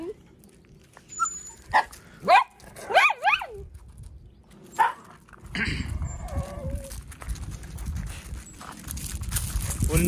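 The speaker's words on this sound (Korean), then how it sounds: "놀면서도 짖어" Outdoors on a windy morning, a dog barks while playing in an exercise yard: a few sharp, separated barks in quick bursts, then gusty wind noise and people talking nearby.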